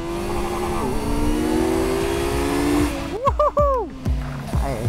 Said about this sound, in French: cette tentation d'aller laisser le moteur s'exprimer en haut